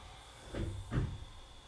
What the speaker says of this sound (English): Did you slam that door?